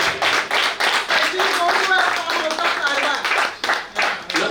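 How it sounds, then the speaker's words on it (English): Audience clapping after a reunion speech, a loose patter of hands with some voices talking over it throughout. "a big round of applause for all of us for making that effort to come here and be here."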